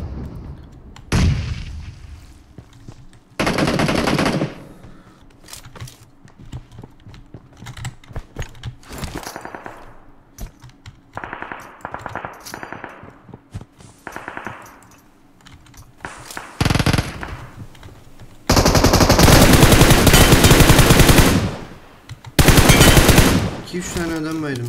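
Bursts of automatic gunfire from the mobile battle royale game PUBG Mobile, loud rapid volleys separated by quieter stretches of footsteps and mechanical clicks, with a heavy sustained barrage near the end.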